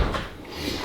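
An old, worn door with its weather stripping gone is pulled open, giving a short wooden scrape and creak, close by and fairly quiet, with no talk.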